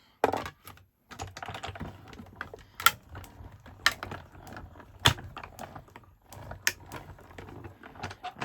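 A die cutting machine cranks a card through in a craft room, giving a steady run of mechanical clicks and thunks with a few sharper knocks, close and fairly quiet, with no talking.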